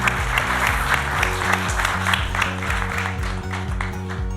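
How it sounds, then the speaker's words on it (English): An audience applauds panelists at an investment industry event, a lively burst of clapping over steady background music, continuous and fairly close. "may I ask for a round of applause for our panelists?"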